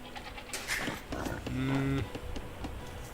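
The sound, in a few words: goats bleating in Age of Empires II video game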